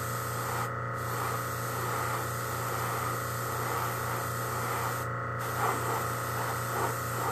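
Airbrush hissing steadily as it sprays paint lightly over a stencil on sunset kitten bag parts, a continuous close airy spray with two brief pauses, no talk.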